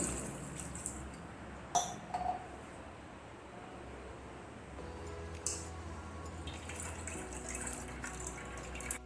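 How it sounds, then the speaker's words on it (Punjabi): Water runs from a tap at a low, steady level as paneer is rinsed, with drips, splashes and a few sharp clinks of utensils in a kitchen sink. "ਤੇ ਪਨੀਰ ਨੂੰ ਆਪਾਂ ਪਾਣੀ ਪਾ ਕੇ ਧੋ ਲਵਾਂਗੇ"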